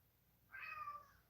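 A single cat meows once, a short rising and falling cry heard faint and a little distant in a quiet room.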